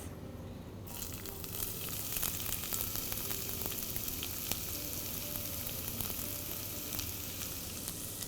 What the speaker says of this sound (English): Now I am going to tip in the onions.